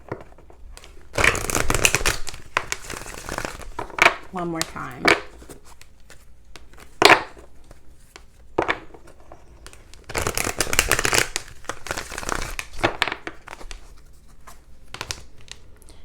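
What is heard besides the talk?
shuffling tarot cards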